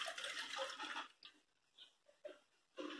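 Strained tomato puree poured from a vessel into a pot, a soft liquid gush at the start, then a few brief splashes and trickles, and a final short pour, close and fairly quiet.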